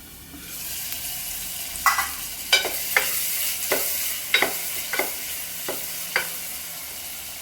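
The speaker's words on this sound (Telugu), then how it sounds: "వేసి ఒకసారి మిక్స్ చేసుకుంటున్నానండి" Food sizzling steadily in a frying pan while a spatula stirs and mixes it, tapping and scraping against the pan in about eight evenly spaced strokes, close and with no talking.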